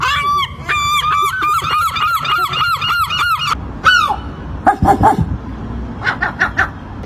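Seagulls call loudly and repeatedly at close range, a rapid run of honking squawks followed by a few scattered shorter cries, with no talk over them.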